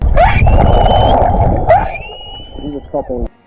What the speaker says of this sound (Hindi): जान बच जाने के बाद 2 व्हेल्स गाना गाने लगी और वो भी खुशी में